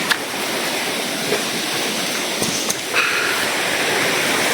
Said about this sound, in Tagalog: Sapa naman po.